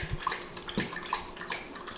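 A dog named Beans laps and slurps at drinking water nearby, a soft wet rhythmic sound of repeated tongue splashes over about two seconds.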